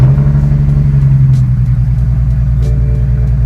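A BMW 335i engine idling just after a cold start, a loud, steady low rumble close by with a slightly uneven, misfiring hum throughout.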